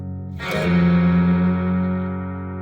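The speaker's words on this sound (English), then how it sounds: "You're hearing a little bit of reverb. That's from this Boss pedal" A single electric guitar chord rings out and sustains with a soft reverb tail from a Boss reverb pedal, fading slowly over a couple of seconds.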